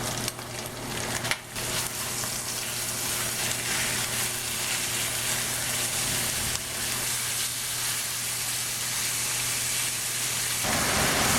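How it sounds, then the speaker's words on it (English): A pound of ground beef sizzles loudly and steadily in a hot pan for a Chinese beef chili, a dense, continuous hiss with a brief dip early on and no talking. "we're gonna cook with 1 pound of ground beef"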